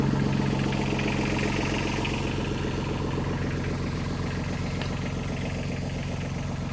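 A BG Bronson 4x4 tractor engine runs at a steady, even idle close by, a continuous low rumble without change or interruption.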